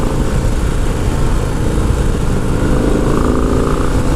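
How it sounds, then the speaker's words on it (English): A 2025 Harley-Davidson Low Rider S engine drones loud and close through a 2-into-1 exhaust, steady with a raspy, throaty note and no pauses. "Oh, that sounds good. That 2-in-1 exhaust."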